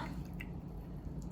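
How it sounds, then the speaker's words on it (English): A paint-laden sponge is rinsed and squeezed in water, giving soft wet squishes and a few drips, quiet and close, with no talking. "So now wash the sponge"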